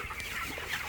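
A flock of about a thousand 23-day-old broiler chickens on a poultry farm clucks in a busy overlapping chorus, steady and fairly close, with no talking.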